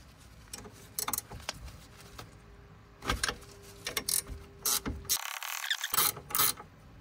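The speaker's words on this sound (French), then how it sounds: "On vient dévisser cette vis ici." Ratchet wrench loosening a 13 mm brake caliper bolt on a Peugeot 207 SW 1.6 HDi 92 during front pad replacement, giving bursts of close metallic clicking with brief pauses and a short louder scrape near the end.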